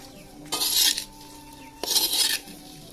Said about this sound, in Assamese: এতিয়া মই এইখিনি লৰাই দিছোঁ।